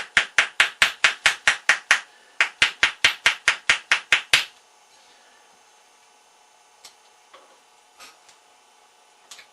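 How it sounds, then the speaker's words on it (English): A dessert spoon taps seams while a hood is moulded: a quick run of about ten sharp, evenly spaced taps, a brief pause, then another run of similar taps, followed by a few faint scattered knocks. "putting some pressure on with your thumb on the 3 seams, and then tapping down the seam"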